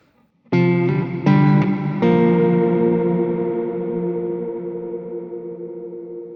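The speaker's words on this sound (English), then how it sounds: "it's an incredibly high quality reverb" Several bright guitar chords strummed in quick succession, then one left ringing in a lush, long reverb tail that fades slowly.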